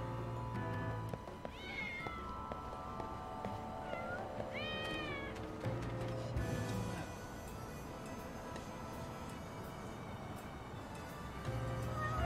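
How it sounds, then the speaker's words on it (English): Cats meowing in the video game Lost Judgment: several short rising and falling meows scattered across a street scene, over a steady low ambient hum with faint background game sounds. "Hi, kitties. Who's a good kitty?"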